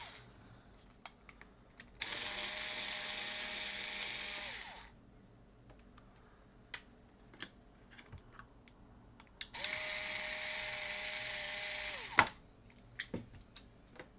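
A PlayStation 4 hard drive bay is worked on with a power screwdriver, which whirs in two steady bursts of several seconds each, close and fairly loud, separated by quiet clicks and handling of small parts.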